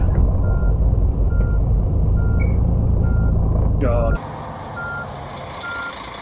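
Steady repeating reversing beeps from a Setra ComfortClass S 519 HD coach in Fernbus Simulator, sounding over a loud low engine rumble that drops away near the end, with a brief spoken exclamation.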